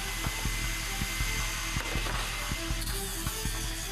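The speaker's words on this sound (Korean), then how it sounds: "창 구조물을 뜯어낸 뒤 울퉁불퉁한 면을 갈아줍니다" A power grinder works on the uneven surface left after the window structure was torn out of a kindergarten bus being converted into a camper. It gives a constant loud whine with regular clicking ticks underneath.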